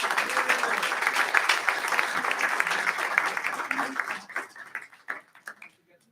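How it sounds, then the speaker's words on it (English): Dense audience applause at a church family gathering, steady and full for about four seconds before thinning into scattered claps and a few voices. "So let's give them all a big round of applause."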